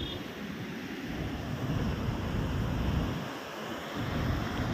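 Fast water rushes past expressway construction pillars with a broad, steady roar of flow and wind buffeting the microphone, continuous and fairly loud, with no voices.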